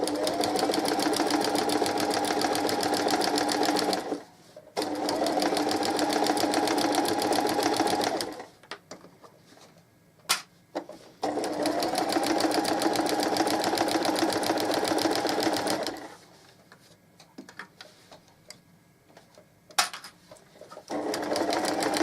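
A sewing machine stitches along the edge of a cushion cover in long steady runs, each lasting several seconds and separated by short pauses, running close and loud with no talking.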